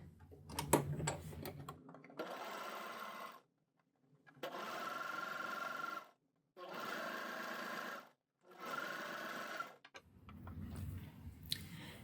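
An overlocker hems stretchy cotton jersey in three rapid, whirring bursts of a couple of seconds each, separated by short pauses. Handling noise comes at the start and the end.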